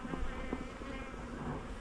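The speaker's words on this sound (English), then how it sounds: "I've got a bee round the head." A bee buzzes close around a beekeeper's head while honey supers are returned to the hive, a low continuous drone that wavers over outdoor ambience.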